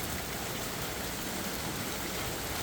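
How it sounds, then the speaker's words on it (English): Monsoon rain falls steadily, a dense, even hiss of drops with no breaks, fairly loud and close, with no voices over it. "It's raining."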